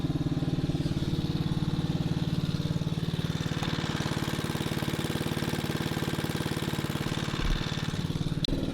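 A small gasoline engine turns a homemade alternator rigged as a DIY battery charger, running steadily and loudly for the whole stretch with an even, rapid chugging hum and no talking.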